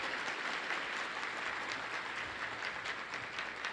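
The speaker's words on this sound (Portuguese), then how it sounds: "Aplauda mais forte, gente." A church congregation applauds in steady, dense clapping that fills the room at moderate, fairly even volume, with no voices standing out.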